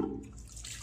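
Water running from a bathroom sink tap onto a Parker PTBABK adjustable shavette razor, a brief, faint splash and trickle with a soft low rumble.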